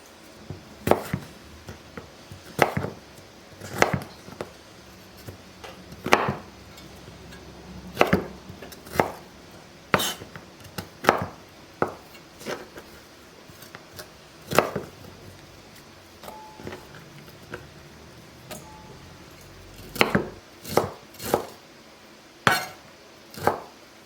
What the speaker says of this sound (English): Peel that broccoli stalk, and then we will cut it up thinly and use it in the soup as well.